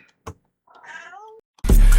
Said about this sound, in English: I'm sorry, my cat's meowing.